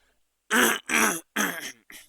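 A person coughs and clears their throat in a run of four close, harsh bursts, the last one shorter, with quiet between them.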